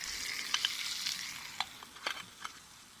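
Bacon and thickly sliced onion cook in a covered pan, giving a soft steady sizzle with scattered small pops and crackles, close and alone.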